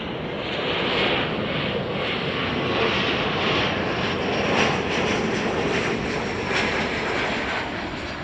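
American Airlines flight 3818 from Wichita, Kansas, a jet landing at Chicago O'Hare, gives a steady, loud engine roar with broadband rushing noise that holds near-constant throughout, no voices.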